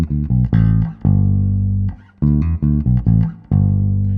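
A bass guitar plays a short fill with harmonics, a run of distinct plucked notes with ringing overtones just after the third beat of the bar, loud and close with no voice over it.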